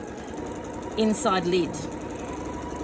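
A sewing machine tacking a fabric pocket around the edges of a hatbox lid gives a short burst of stitching partway through, while someone keeps talking over the machine noise.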